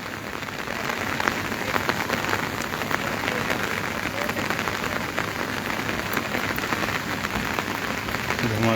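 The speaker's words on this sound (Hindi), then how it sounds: "झमाझम बारिश का दौर चलता हुआ।" Heavy monsoon rain pours steadily over Shimla, a dense, loud, continuous hiss of drops drumming on surfaces with no break throughout.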